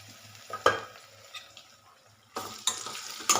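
Curry leaves, onions and green chillies frying in a pan for a brinjal curry, with a quiet sizzle broken by a few loud spoon scrapes and clatters against the pan.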